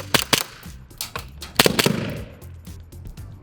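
Elite Force 1911 Tac Legacy airsoft pistol firing a quick string of sharp snapping shots in two close bursts, with mechanical clacks between them and outdoor background noise.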